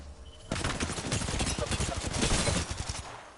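Rapid automatic gunfire in Apex Legends bursts in after a quiet start, a dense rattling volley of shots continuing loud and close, with a voice talking underneath.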